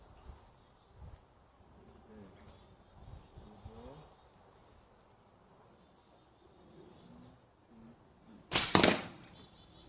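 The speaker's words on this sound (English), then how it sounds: "I'm going to have my boy shoot the balloon, which will release the ring, and I'm going to stop it with an arrow" An arrow is shot at a ring taped beneath a balloon during a backyard trick shot, giving a single loud, sharp impact burst near the end after quiet outdoor ambience with insects buzzing.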